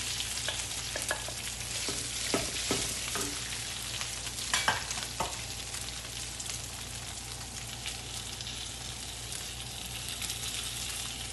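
Green chilies and potatoes sizzle steadily in a hot pan, with a few scraping stirs early on over a continuous soft frying hiss.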